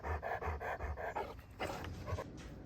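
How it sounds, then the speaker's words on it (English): A happy pet dog pants in quick rhythmic bursts close to the microphone, with a short pause midway before the panting resumes. "Who's a happy dog?"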